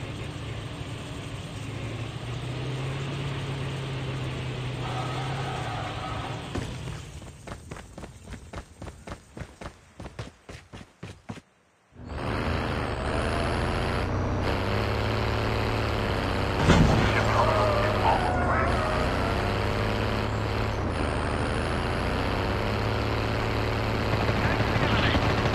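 A vehicle engine in the game Call of Duty Mobile drones as a steady loud hum, then a rapid fluttering rattle before a short cut, after which a denser engine roar returns and runs on.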